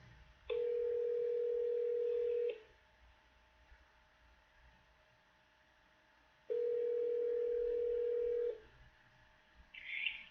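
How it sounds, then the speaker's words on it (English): Two long, steady ringback tones, each lasting about two seconds, with a quiet pause between them, heard over a phone line with a faint hiss. "It's just ringing now."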